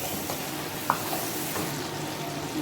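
Beef karahi ingredients fry in a pan with a steady sizzle and light stirring, one brief clink partway through, close and continuous.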